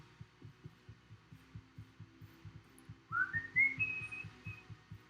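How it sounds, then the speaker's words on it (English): A person whistles a short rising melody partway through, fairly clear and close, over a soft rhythmic thumping beat playing quietly from the start. "No whistling!"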